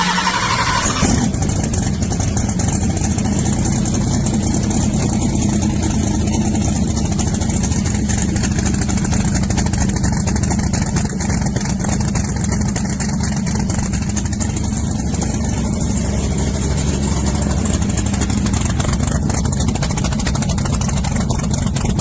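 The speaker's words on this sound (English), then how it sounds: "it's the first startup of the car" A drag race car's engine fires up for the first time about a second in and settles into a loud, steady, rumbling idle that runs uninterrupted for roughly twenty seconds, close and dense with low growl.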